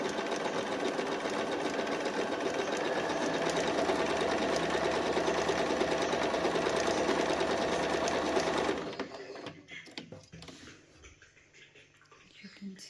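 A Bernina 1030 Swiss sewing machine stitches in a steady, rapid whir for about nine seconds, then stops, leaving quieter mechanical handling noises.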